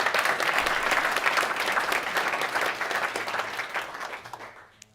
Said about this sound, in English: Give Matthias an applause.